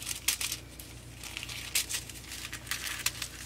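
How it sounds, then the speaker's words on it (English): Scissors snip and trim a thin foil sheet to size, making faint, uneven crinkling and crisp cutting sounds in quick bursts at close range. "I'm gonna trim it to size with some scissors"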